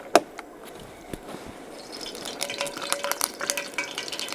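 Water flicked into a hot, preheated pan ahead of cooking potato pancakes crackles and sizzles, with a sharp pop at the start and a busier spitting hiss building toward the end.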